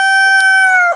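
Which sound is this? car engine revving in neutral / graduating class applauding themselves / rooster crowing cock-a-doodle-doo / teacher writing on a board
rooster crowing cock-a-doodle-doo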